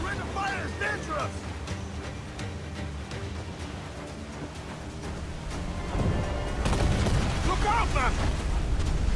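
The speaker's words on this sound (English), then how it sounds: "Incoming fire! Enemy fire! Small guns, yes, but their rate of fire is dangerous." Enemy ship cannon fire during a naval battle in Assassin's Creed IV: Black Flag, with repeated booming shots and rumbling blasts over wind and sea noise, growing louder near the end as someone shouts.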